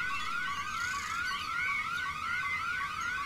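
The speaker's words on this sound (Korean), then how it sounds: "알람 소리야? 아 시끄러워!" An electronic alarm wails in the horror video game Bad Dream: Coma, a loud sweeping warble that rises and falls over and over, continuous and harsh throughout.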